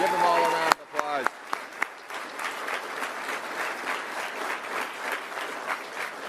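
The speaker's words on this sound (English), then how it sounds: "Give them all a round of applause." An audience gives a sustained round of applause at a public gathering attended by police association members. A brief spoken voice is followed by dense, even clapping that continues steadily to the end.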